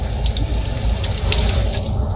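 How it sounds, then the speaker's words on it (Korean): Water runs steadily from a shower at a campsite in Maui, making a loud, continuous hiss and splash close by with small spattering bursts throughout and no talking. "쭈뽀기 샤워 시키러 갑니다"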